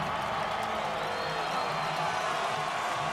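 A packed football stadium crowd cheers for Boise State at its 2010 game against Oregon State, a dense, steady roar of voices and whoops with no break.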